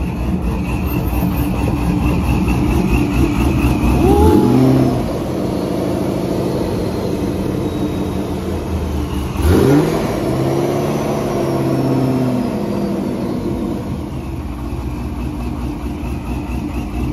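Loud 392 V8 rumbling at a cars and coffee meet, with two throttle blips that rise and fall around a steady burbling idle, heard close up.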